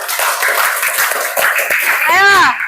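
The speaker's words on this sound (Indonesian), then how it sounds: "Beri tepuk tangan dulu untuk kelompok 2" Classroom applause for a student group after their presentation, a short burst of clapping mixed with children's voices and chatter, ending in a high-pitched drawn-out vocal sound.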